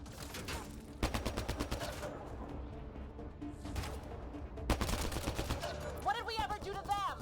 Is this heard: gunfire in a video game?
yes